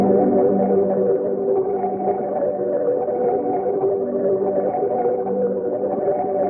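A sustained, warm synthesizer chord holds steadily with a soft, slightly wavering tone, dry and unprocessed, no other sounds.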